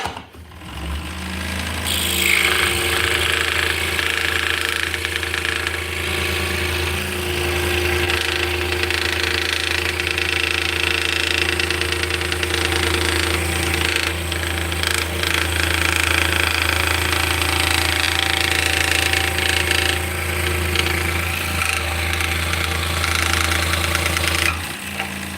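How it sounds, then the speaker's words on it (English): An electric scroll saw runs continuously while cutting a workpiece, a steady buzzing, rapid reciprocating blade hum with a constant motor drone for the whole stretch, loud and close. "So scroll saws are never the fastest saw you can use"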